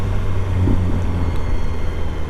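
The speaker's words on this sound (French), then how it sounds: "Putain, la décélération c'est trop beau, le bruit, je kiffe." A BMW S1000R motorcycle engine decelerates, a steady low rumbling drone with a deep bass hum holding loud and close, without any voices over it.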